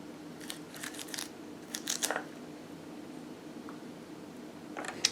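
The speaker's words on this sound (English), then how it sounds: "I think I'm going to use chef scissors to chop the chives" Chef scissors snip fresh chives for a 1950s potato salad, a few crisp close-up cuts in short clusters separated by quiet pauses.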